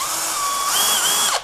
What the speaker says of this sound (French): Deuxième essai avec la perceuse.